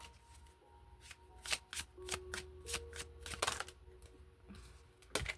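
Tarot cards being shuffled by hand, a series of quick crisp riffles and slaps in irregular bursts, close and fairly quiet, with no talk.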